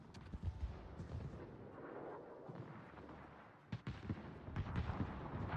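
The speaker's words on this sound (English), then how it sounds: "look at all these torpedoes" Torpedoes launching during a naval battle video game, heard as a relentless run of deep, booming launches and blasts over a continuous rumbling combat din, with several sharp bursts close together near the end.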